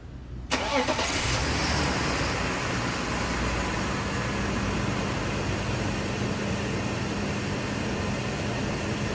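A BMW E39 530i engine cranks and catches with a quick burst, then settles into a steady, close idle hum that continues to the end.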